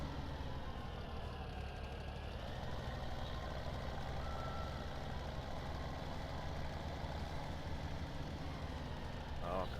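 A tractor engine in a farming video game, driving in mud, rumbles steadily and loudly throughout while a repeating reversing beep sounds over it.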